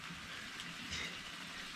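Rain falls steadily at a village market in Turkey in January, a soft, even hiss of drops that stays faint and constant throughout, with no voices.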